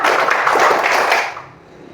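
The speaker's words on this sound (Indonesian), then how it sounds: "Tepuk 1, tepuk 2, tepuk 3, tepuk 4" Sixth-grade schoolchildren in a primary classroom clap their hands together in a close, loud flurry lasting just over a second before it tapers off into near silence.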